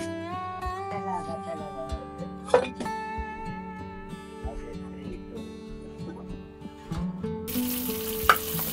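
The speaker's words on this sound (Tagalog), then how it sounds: "Kaya na pagluluto ng longganisa, pinapakuluan para maluto mabuti yung laman. And then, ipirito." Longganisa sausage fries in hot oil with a steady, close sizzle, while voices and tonal background sounds run alongside it.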